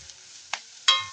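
A spoon scrapes through food seasoned with pepper and salt in a frying pan, giving three brief, sparse clinks and scrapes over a faint background hiss.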